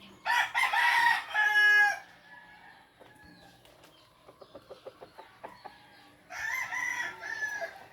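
A frizzle rooster crows loudly close by in two long calls, one at the start and one at the end, with a run of soft, rapid clucks in between.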